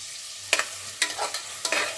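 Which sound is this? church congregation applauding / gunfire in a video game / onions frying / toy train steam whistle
onions frying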